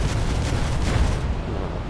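A vehicle weapon in Battlefield Play4Free fires in a steady burst of rumbling, booming shots, loud and dense across the whole short stretch, with no talk.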